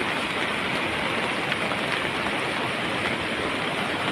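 Steady, dense hiss of heavy rain pouring down, constant and fairly loud throughout with no voices.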